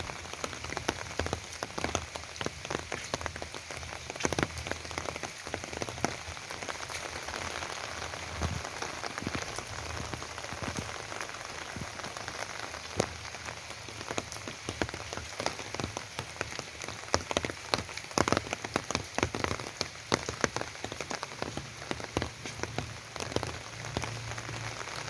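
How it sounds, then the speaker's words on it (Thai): Heavy rain pours steadily at a temple in Luang Prabang, a dense continuous hiss of drops on surfaces with scattered sharper patters, fairly faint and without voices. "โอ้ยฝนตกแห้ง"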